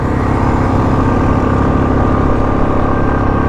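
A motorcycle with a rattling clutch held at full throttle on a high mountain road toward Khardung La, a loud, steady, droning engine roar with wind, unbroken and close.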